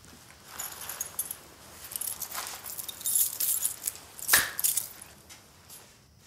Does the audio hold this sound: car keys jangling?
yes